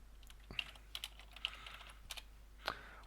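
Soft, sparse keystrokes on a computer keyboard while playing the old PC adventure King's Quest 2, with a few irregular clicks spaced across a few seconds in a quiet room.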